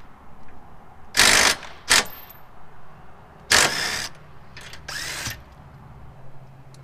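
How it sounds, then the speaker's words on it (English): An impact driver with a deep socket removes 18 mm bolts during a hitch install on a BMW X5. It fires in several short, loud bursts of rapid hammering rattle, close by, separated by pauses. "nice to have a impact driver for this. Speeds up the process."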